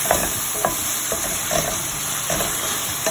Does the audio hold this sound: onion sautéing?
yes